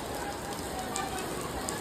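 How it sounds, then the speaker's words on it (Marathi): Heavy rain falls on an outdoor haldi wedding ceremony, a steady, dense hiss of drops striking surfaces. It runs on evenly and close by, with faint voices in the background. "गाईज बघू शकता नुसता पाऊसच पाऊस."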